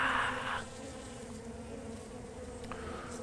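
Honey bees gather to drink water, giving a steady close buzzing hum with one louder pass at the start, then a continuous drone with no voices.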